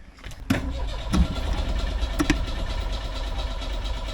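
An old Lynx car engine cranks with a couple of sharp turnover bursts, then catches and settles into a steady, close rumbling idle.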